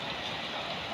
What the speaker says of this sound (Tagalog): Yan yung ulan oh, galit na galit.